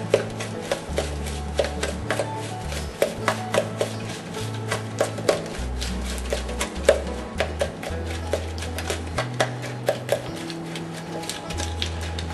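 Margarine is worked into a crumb topping for apple lasagna, a steady run of close, rhythmic tapping and scraping of a utensil against the bowl over a low background hum.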